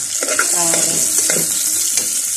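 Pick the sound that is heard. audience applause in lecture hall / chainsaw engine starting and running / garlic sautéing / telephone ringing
garlic sautéing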